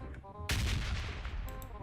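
Bursts of red zone bombardment in the mobile battle royale game PUBG Mobile, a sudden loud blast followed by rumbling explosive crackle that persists for the rest of the short moment.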